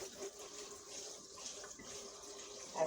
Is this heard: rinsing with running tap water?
yes